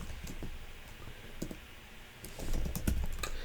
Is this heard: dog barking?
no